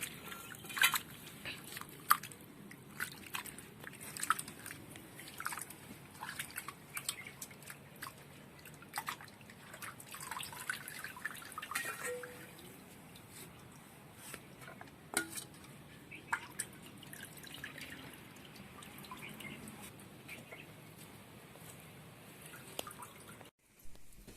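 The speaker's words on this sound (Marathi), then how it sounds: "तर हे चिकन आता आम्ही आधी धुवून घेणार आहोत" Raw chicken being washed in water in a vessel, quiet splashing, sloshing and dripping with occasional clinks of the pot, soft and close and continuing for a long stretch.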